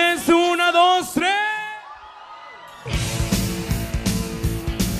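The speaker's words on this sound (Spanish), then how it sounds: "Regálame un grito a la de 3" A live comedy show audience at a venue in Villa Nicolás Romero lets out a sustained yell on cue, a dense roar of crowd shouting that follows a drawn-out, singsong call.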